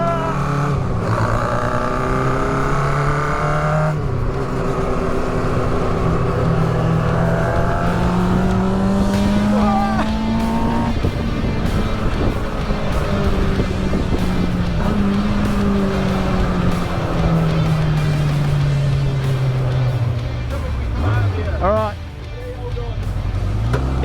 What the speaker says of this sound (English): It's definitely the best sounding tuk-tuk in the world.